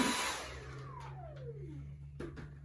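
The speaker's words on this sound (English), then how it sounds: "Now vacuum the next." A vacuum cleaner runs with a steady motor hum and a descending whine while floor pieces are laid in a home remodel, moderate in level with a few knocks near the end.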